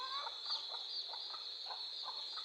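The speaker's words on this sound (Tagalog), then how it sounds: "Oh, yung mga manok natin, tingnan." Several chickens cluck in short, soft bursts against a steady high-pitched hiss, with no talking.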